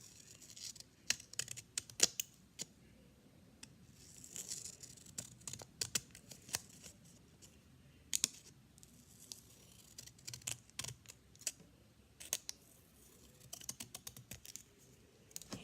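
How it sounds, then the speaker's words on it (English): Scissors snip through paper in a quiet, close series of short crisp cuts and rustles, irregularly spaced with small pauses between them. "The next one is cutting paper."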